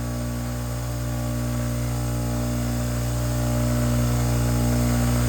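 A bench grinder runs steadily as a trumpet backbore reamer is ground against it, a continuous loud whirring hum that holds level and grows slightly louder toward the end, with no talking.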